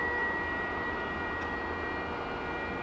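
Steady, moderately distant roar of a large passenger jet at DFW Airport, a continuous broadband engine rumble with a thin high whine running through it and no voices.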